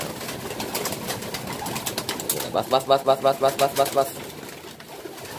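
Pigeons coo in a loud, rhythmic run of about eight throaty pulses close by, with a person talking over the birds before and after.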